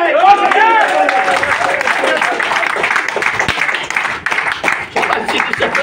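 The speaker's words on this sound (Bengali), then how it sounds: "জোরে একটা হাততালি চাই।" An audience at a talk on diabetes breaks into loud, dense, sustained applause. A voice is briefly heard at the start.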